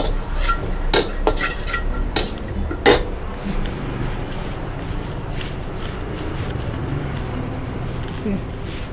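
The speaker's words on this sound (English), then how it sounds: "Now I have to roast the sesame seeds and put inside the flour." Sesame seeds roasting in a pan for ghee balls (neii urundai), stirred steadily, with repeated close metal scrapes and clinks of a spoon against the pan over a continuous low sizzle.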